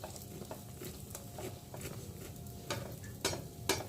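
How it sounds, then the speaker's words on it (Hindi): Burger buns toast in a pan in the oil left over from shallow-fried tikkis, a steady low sizzle with light scraping and tapping from a spatula, close and continuous, with no speech. "उसी का जो बचा हुआ हल्का हल्का ऑयल है उसमें ही हम हल्का हल्का इनको सेक रहे हैं"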